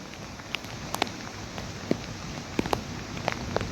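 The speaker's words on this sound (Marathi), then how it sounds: "प्रचंड पावसाचं प्रमाण सध्या 3-4 दिवसापासून कोकणामध्ये" Heavy monsoon rain falls over flooded rice paddies in Konkan, a steady moderate patter broken by a scattering of distinct, sharp drop plinks close by.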